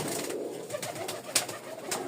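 Pigeons cooing, a pair of white Rajshahi Giribaz with white beaks and black eyes, one male and one female; soft repeated low coos at close range over faint background noise, with no talking.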